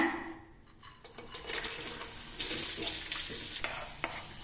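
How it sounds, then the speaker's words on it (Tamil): Cashews and raisins fry in ghee, with a crackling sizzle that swells after a quiet start, broken by the clinks and scrapes of stirring in a pan, close by and with no talking. "நம்ம முந்திரி திராட்சை நெய்யில் வறுத்துக்கலாங்க"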